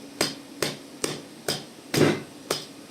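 An RPK machine gun receiver is tapped into its rifle stock, six evenly spaced sharp knocks about half a second apart, close and crisp in a quiet room.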